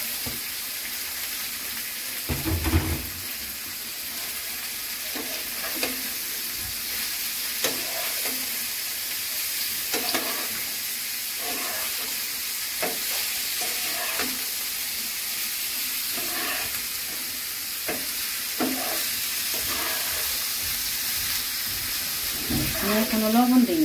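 Potatoes fry in a pan with onion, green chili and turmeric, a steady soft sizzle broken by stirring clatter, with someone talking now and then over the cooking.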